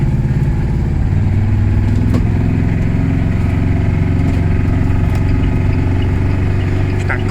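A vehicle with no power steering, limited to about 65 km/h, drives along with its engine droning steadily and loudly up close, a low continuous rumble with faint rattles throughout.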